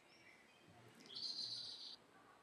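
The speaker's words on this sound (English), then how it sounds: "Those are blackbirds." Blackbirds singing outdoors: a brief, faint bird call with a high, bright sustained phrase rising out of a quiet background, heard alone at a distance.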